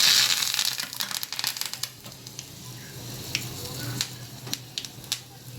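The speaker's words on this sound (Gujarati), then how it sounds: "આપણે વઘારમાં નાખી દઈશું" Spices, dried chillies and curry leaves sizzling in tempering oil, an initial loud hiss that settles into a fainter, steady crackle punctuated by sharp pops and spits near the pan, with no talk.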